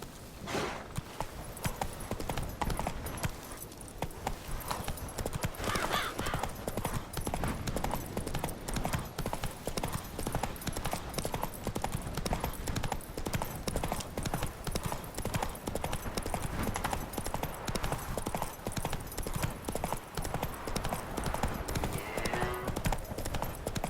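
Roach, a horse in The Witcher 3, clip-clops in a steady walking rhythm, hoof strikes continuous and fairly close across the whole stretch, with occasional faint speech and ambient game sound underneath.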